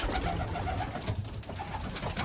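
Pigeons coo steadily in a loft of young and old birds, soft repeated low calls overlapping at close range with no talk.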